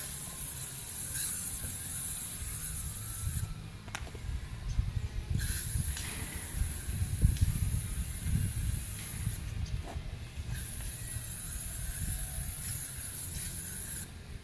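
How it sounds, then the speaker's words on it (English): A steady hiss of DEET insect repellent spray onto the backs of kennels runs almost continuously, with brief pauses and a low rumbling background throughout. "we take the Repel DEET and we spray the back of the kennels"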